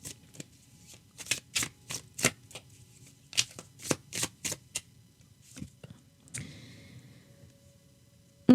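Tarot cards shuffled by hand in a quiet room: a run of crisp riffling bursts in quick rhythm, then a pause and a softer single card slid and placed, close and clear with no talking.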